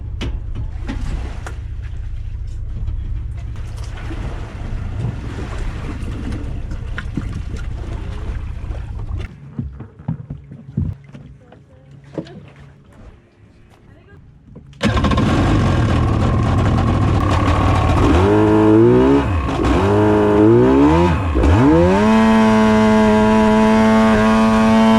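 A cheap Waverunner personal watercraft is started for a test drive. A faint, uneven rumble gives way to a loud engine that roars to life and revs up and down repeatedly in rising and falling sweeps before settling into a steady idle.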